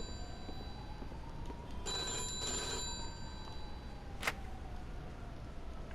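A telephone rings in the Mafia 2 video game, a thin electronic ring sounding in a short burst over a low ambient hum, followed later by a sharp single click.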